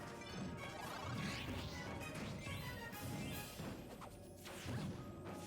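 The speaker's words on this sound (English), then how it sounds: "Charizard smashing into the stage" Charizard's Flare Blitz slams into the stage in Super Smash Bros, a series of loud, crunching smash impacts and whooshes running continuously through the moment with no voices.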